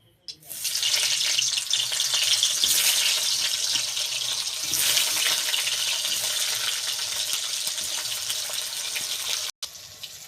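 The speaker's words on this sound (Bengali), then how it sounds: "আমি এখানে নুন হলুদ মাখানো পটলগুলো অল্প অল্প দিয়ে ভেজে নেব" Salted, turmeric-coated pointed gourd frying in hot mustard oil, giving a loud, steady hiss and sizzle close by that carries on with little change until a brief break near the end.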